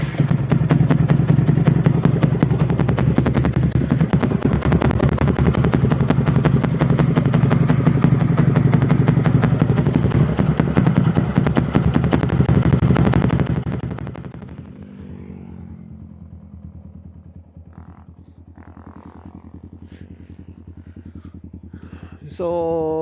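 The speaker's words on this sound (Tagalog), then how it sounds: "I-sound check natin ngayon yung muffler" A TVS Apache motorcycle fitted with an Akrapovic muffler idles close by in a loud, rapid, popping rumble for about thirteen seconds, then cuts off, leaving quiet clicks and handling noises.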